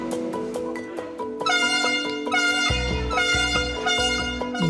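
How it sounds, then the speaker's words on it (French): Loud horn blasts sound an alert in a French military camp, sustained tonal honks that overlap and repeat with brief gaps, close and dominant. "je vais aller déclencher l'alerte en donnant 2 coups de klaxon"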